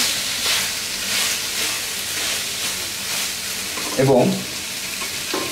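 Separated onion petals go into hot oil in a pan for Bangladeshi Chinese-style beef chili and crackle in a steady, loud sizzle, with a brief stirring clatter near the end and a voice talking briefly.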